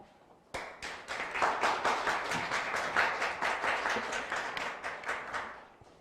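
An audience at a nurses' association general assembly and policy forum bursts into applause after a silent moment, building into steady, dense clapping that holds for several seconds, full and fairly close.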